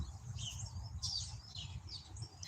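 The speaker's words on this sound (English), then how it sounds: "can you hear the birds?" Small birds chirp outdoors in the morning, bright tweeting calls repeating faintly over a low, steady background rumble.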